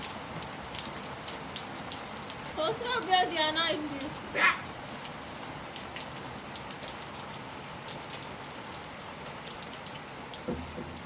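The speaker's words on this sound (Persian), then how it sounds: "وای که بارونیه" Steady rain patters on a surface outdoors at a nomadic family's camp, a constant hiss throughout, while a woman calls out briefly near the start.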